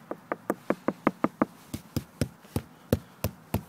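Sharp knocks on the hollow transom of a Cobia 18C boat, about seventeen raps in quick bursts that first come fast and even, then slow to a looser, steady beat, close and fairly loud.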